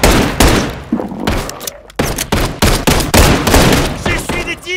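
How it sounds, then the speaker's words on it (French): Loud, close bursts of automatic gunfire crackle and thump in an online Call of Duty gunfight, with rapid volleys separated by brief gaps and hard impacts throughout. "J'essuie des tirs."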